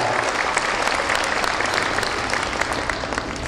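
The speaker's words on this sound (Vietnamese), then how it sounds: "Xin một tràng pháo tay cho tất cả mọi người chúng ta" An audience claps steadily and enthusiastically, a dense wash of applause that holds at an even level from start to finish.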